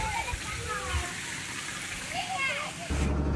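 Water from a farm pump set pours and splashes steadily nearby as people bathe, a constant wet rush with faint children's voices and chatter in the background.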